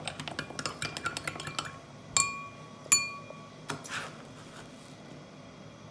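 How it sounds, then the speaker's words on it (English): A spoon stirs salt water in a glass, with a quick run of small clinks followed by a few louder, ringing taps against the glass. The sounds are close and fairly quiet, with no voices. "now let's stir it"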